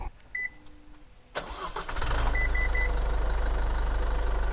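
An Isuzu MU-X SUV's engine cranks and starts, then settles into a steady low idle rumble, preceded by a few short electronic beeps.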